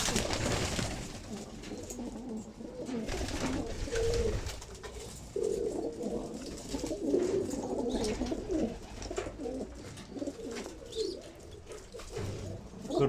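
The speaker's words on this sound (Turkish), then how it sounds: "Dört tane Manisa'da uçan kuş arkadaşlar." Manisa flying pigeons cooing close by in repeated low, throaty phrases that overlap into a continuous murmur, with a few faint chirps and no talking.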